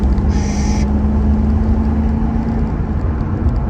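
A supercharged Toyota 1UZ V8 idles steadily and loudly while being run in, with a constant low rumble and a faint whine. A brief higher tone sounds near the start.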